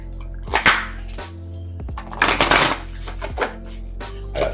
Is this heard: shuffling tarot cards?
yes